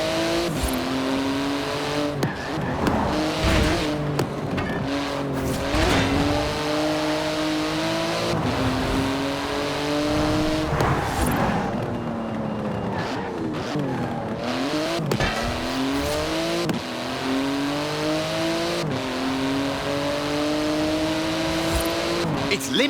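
A Porsche 911 GT2 RS in Forza Horizon 4 races with a titanium exhaust, its engine repeatedly revving up through gears with shifts, tire squeals and skids, loud and close while someone talks over it.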